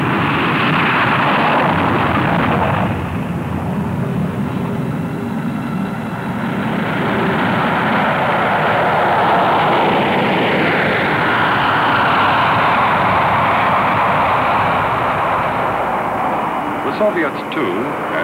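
The engines of a B-47 jet bomber give a steady, loud, broadband roar that holds for the full length, with a narrator's voice running over it.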